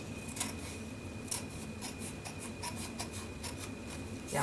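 Paper for a Candy Land themed journal being trimmed, a quiet run of repeated scratchy cuts and rubbing strokes at an uneven rhythm, close and faint, with a thin steady tone underneath and no speech.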